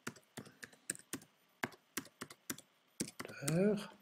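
Typing on a computer keyboard while entering an email address in settings: a steady run of close, crisp key clicks in uneven rhythm, ending with a brief louder tonal swell.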